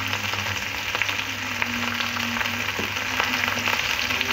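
Potatoes fry in a pan with turmeric, giving a steady, close sizzle with scattered small pops and crackles throughout.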